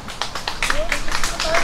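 A crowd claps in scattered bursts during an outdoor performance at Banwol Lake on a hot summer day. Voices and a thin whistling tone run through the claps.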